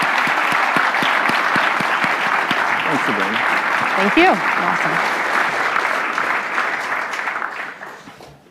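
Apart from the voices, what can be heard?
audience applause after a talk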